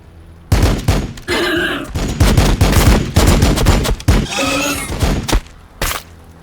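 Gunfire in Warhammer 40,000: Battlesector rattles in several loud bursts, sharp volleys separated by brief gaps, with a faint hum between and a final single crack near the end.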